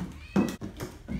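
A pet cat shut in its cage gives a few short meows, close by and moderately loud, with household noise around it.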